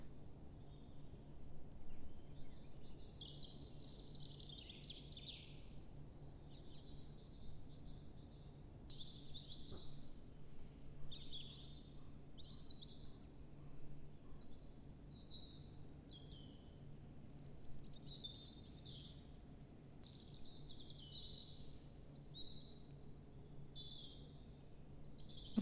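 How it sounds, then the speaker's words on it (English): Several birds chirp and sing in bursts over a soft, steady background hum, fairly quiet and somewhat distant. "Just listening to the sounds of the"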